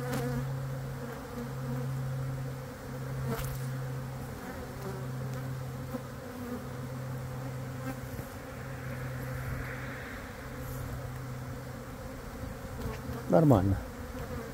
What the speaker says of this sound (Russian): пчелки гудют